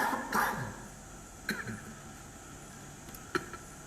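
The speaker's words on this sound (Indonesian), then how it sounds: "Ini batuk bukan corona." A few short coughs and throat-clearing bursts from a man during an Indonesian religious talk, close and fairly quiet, spaced out over a few seconds with pauses between them.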